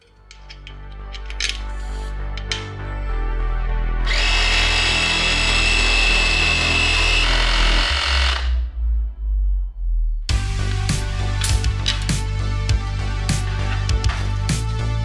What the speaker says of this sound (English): Portable air compressor on my bike.